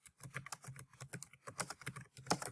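Rapid typing on a computer keyboard while entering a title into a library database search box, a quick, uneven run of close, crisp key clacks with no voices.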